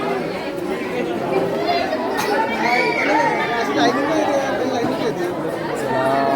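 A dense crowd at Ekvira temple chatters on all sides, many overlapping voices forming a loud, continuous hubbub with scattered nearer calls.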